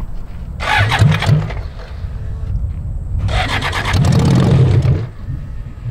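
A BMW 1000cc engine fitted in a mini trophy truck kart cranks and fires in two loud, close bursts, with a rough low rumble continuing between and after them.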